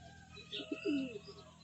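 Racing pigeons at a club training return cooing, a few soft close coos rising and falling over a quiet background, with faint chirps around them.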